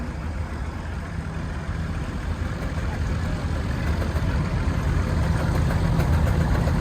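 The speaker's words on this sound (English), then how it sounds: "It's a steam engine." A steam engine at an agricultural show's parade of power chugs and hums continuously at close range, a low rumbling drone with faint rhythmic knocking underneath, growing slightly louder.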